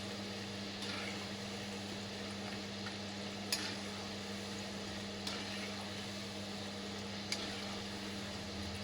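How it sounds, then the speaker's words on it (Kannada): Kodubale, ring-shaped rice snacks, frying in hot oil over a medium flame: a steady, soft bubbling hiss with a low hum beneath it, broken by a few faint clinks spaced seconds apart. "ಮೀಡಿಯಮ್ ಉರಿಯಲ್ಲಿ ಕೋಡ್ಬೇಳೆಯನ್ನು ಕರೆದುಕೊಳ್ಳಿ, ಗೋಲ್ಡನ್ ಬ್ರೌನ್ ಬರೋವರೆಗೂ ಫ್ರೈ ಮಾಡಿಕೊಳ್ಳಿ"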